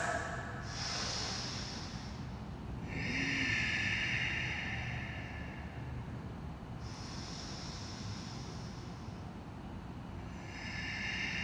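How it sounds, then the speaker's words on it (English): Slow, deep breaths drawn in and let out while lying in a resting yoga pose, about three long hissing inhale-exhale cycles, close and steady over a low background hum. "Take 3 deep breaths."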